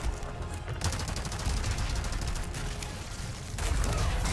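Heavy gunfire rattles nonstop in Resident Evil 4 Remake, loud rapid shots that grow even denser near the end, with no talking.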